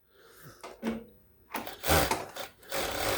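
A Sewtech SW-6800 automatic industrial overlocker with auto-cut sensor runs briefly, then sews fabric in two louder whirring bursts at high stitch speed, close and with no talking.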